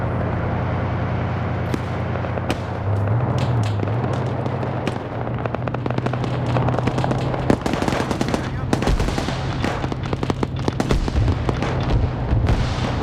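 Mortar and gunfire in a military video game, a dense, continuous barrage of sharp cracks and booms over a steady low engine-like drone, loud and close throughout.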